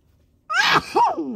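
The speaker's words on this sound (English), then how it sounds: "I can feel the sneeze coming on." A single close sneeze bursts out after a moment of quiet, trailing into a short breathy vocal sound.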